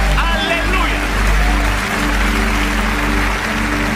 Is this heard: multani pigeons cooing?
no